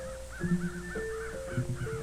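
Crows caw repeatedly over a cornfield, a run of harsh calls at moderate distance over steady background tones.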